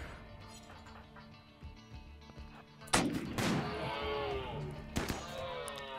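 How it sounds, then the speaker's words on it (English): Gunfire in RimWorld, a modded colony game: a loud close shot after a quiet stretch, a booming echoing tail, and a second sharp crack a couple of seconds later, with no talking. "we just shot one of their people"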